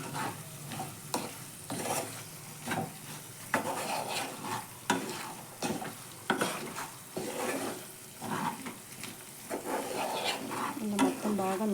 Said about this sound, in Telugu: ఇప్పుడు ఇదంతా మనం మిక్స్ చేసుకున్నాం. ఇప్పుడు ప్రాసెస్ అంతా కొద్దిగా లో ఫ్లేమ్లోనే ఉంది.